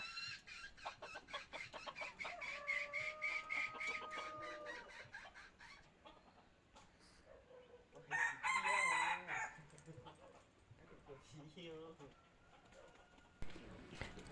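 People talk while clucking and cooing fowl sound nearby in a Hmong mountain village; midway a loud rooster crow rises over the chatter, then the talking continues.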